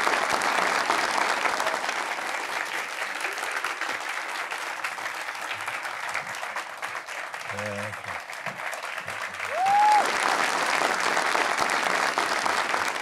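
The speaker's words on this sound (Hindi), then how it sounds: "आपकी भरपूर तालियों में।" A sustained wave of audience applause at an Eid-ul-Adha TV show welcoming Ustad Ghulam Ali, steady clapping from a large crowd, with a voice speaking over it near the end.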